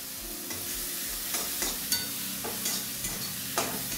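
Spices and green chutney frying in oil in a pan with turmeric, onion and tomato for Maharashtrian usal, a steady soft sizzle with a few sharp scraping stir clicks, close and alone.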